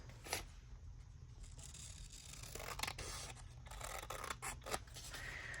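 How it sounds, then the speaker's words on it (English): Quiet snipping and rustling of scissors cutting through paper, close by, with intermittent sharper snips over a soft background hiss. "I think I'm going to just do this one with scissors."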